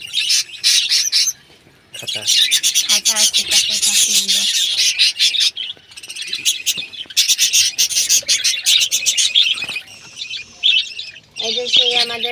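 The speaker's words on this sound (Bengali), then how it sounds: "এই যে আমাদের কলোনির পাখির ছাড়াগুলো" Many colony birds chirp and squawk in a dense, close, continuous chorus of high calls, with short pauses and an occasional low voice.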